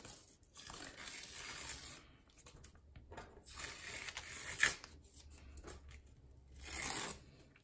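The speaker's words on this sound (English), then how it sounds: "I'm going to take off my tape" Masking tape being peeled off a finished watercolour lavender field painting on paper, a series of soft ripping and crinkling strips, close and fairly quiet, with a louder tearing pull near the end and no talking.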